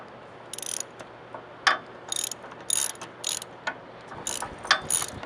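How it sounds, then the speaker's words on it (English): A hand ratchet tightens bolts while a stinger bar is installed, giving short bursts of rapid clicking pawl strokes spread irregularly across the quiet, close to the listener. "we can go on in and tighten up our 13 mil and our T5 button heads up here"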